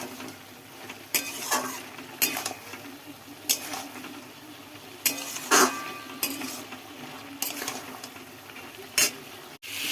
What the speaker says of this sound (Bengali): এই দেখুন ডিমের ঝোল করছি।